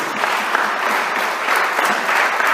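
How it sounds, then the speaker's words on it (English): A church congregation claps hands together for Jesus, a loud, sustained burst of crowd applause with scattered sharper claps and no pause. "Clap your hands together for Jesus."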